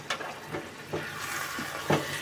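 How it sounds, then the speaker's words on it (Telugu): Stirring drumstick coconut curry in a pan, a soft bubbling simmer with several gentle scrapes and sloshes of a spoon at irregular intervals, close and quiet. "ఒకసారి మొత్తం కలుపుకుందాం"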